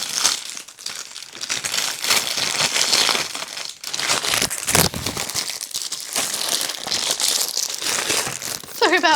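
Crinkling of a sealed plastic bag being handled while a diamond painting kit is unboxed, a steady close rustle with sharp crunches throughout.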